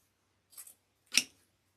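Scissors snip through wreath-making material in two quick, close cuts, a short soft snip followed by a sharper, louder one, in an otherwise quiet room.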